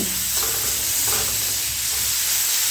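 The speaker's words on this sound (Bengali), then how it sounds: "এবারে গ্যাসের ফ্লেমটা একদম লোতে রেখে পেঁয়াজ আর রসুনটা একটু ভালো করে ভেজে নিতে হবে।" Steady sizzling hiss of onion and garlic frying in a pan over low flame, continuous and fairly loud, with faint stirring underneath.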